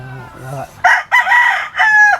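A rooster crows loud and close in a rural Philippine yard, a drawn-out multi-part call after a few lower clucks, with no talk over it.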